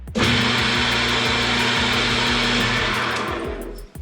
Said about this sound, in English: I'm pretty sure the bearings are going bad or something because it's noisy